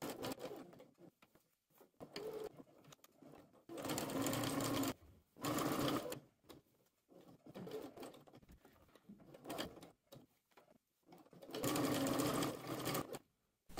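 A sewing machine edge-stitches along a dress hem, running in several rapid whirring bursts separated by brief pauses, close and clear with no voices.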